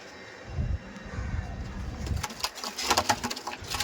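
Madrasi pigeons, a mated male and female pair, give low throaty coos at close range, followed by a burst of rustling and fluttering movement near the end.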